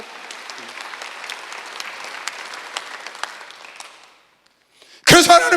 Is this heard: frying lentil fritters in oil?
no